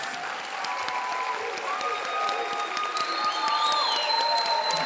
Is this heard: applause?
yes